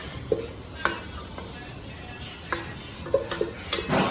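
A garlic-laced aromatic mixture sizzles softly in a pan while it is stirred, with a steady low fry hiss and scattered scrapes and clinks of the utensil against the pan.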